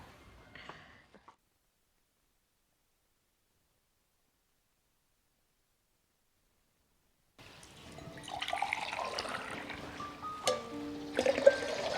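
Water poured while making lemonade, a soft splashing trickle that starts after a long silence and continues faintly with small drips and clinks toward the end.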